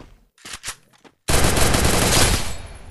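Gunfire rings out in a shooting video game scoring headshots: a few sharp shots, a short gap, then a loud sustained burst of rapid fire.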